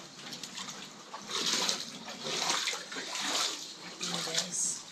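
Floodwater rushing near a bridge while rain keeps falling, a steady broadband roar of moving water that swells and ebbs, with someone talking over it throughout.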